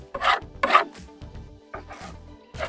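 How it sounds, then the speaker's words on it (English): A metal hive tool scrapes wax moth cocoons from the inside of a wooden beehive box in several short, close, rasping strokes with brief pauses between them. "Take your Hive Tool, scrape the insides down"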